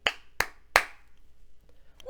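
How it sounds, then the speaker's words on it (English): Three sharp, distinct hand claps spaced evenly a third of a second apart mark out the syllables of a word in a classroom lesson, close and clear against silence, followed by a faint trailing sound. "I have 3 sounds that I just clapped, didn't I?"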